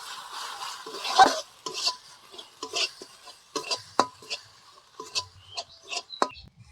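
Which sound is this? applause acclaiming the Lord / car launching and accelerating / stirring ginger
stirring ginger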